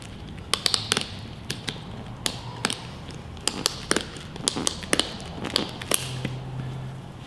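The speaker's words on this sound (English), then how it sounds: "We then ratchet the device." A tourniquet surf leash being tightened, a run of quick sharp clicks and taps in irregular bursts, close and fairly loud against a faint background.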